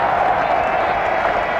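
Cricket crowd at the 1983 World Cup final between India and the West Indies, a steady bubbling murmur of spectators with light applause, heard continuously beneath a commentator's voice.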